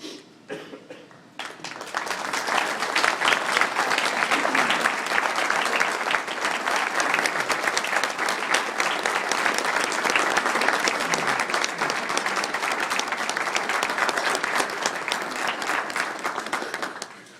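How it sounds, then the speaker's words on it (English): Sustained applause from an audience honoring families of people with cystic fibrosis, starting after a brief quiet moment and holding steady and dense throughout, with a few scattered coughs. "I'd like to give you a round of applause"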